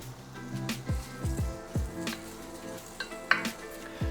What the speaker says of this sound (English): Going to put all the onion in the pot and fry it for 5 minutes until it's nice and soft.